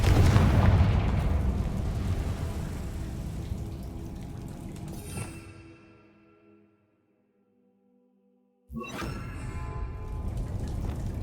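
A Confringo spell explosion in the Hogwarts Legacy video game bursts loudly, then its rumble fades into near silence before another loud blast-like roar kicks in.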